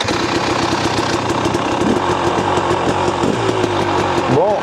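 A KTM 300 TPI two-stroke dirt bike idles nearby with a steady, buzzing, slightly uneven putter that holds throughout, a short throttle rise near the end, and people talking over it outdoors.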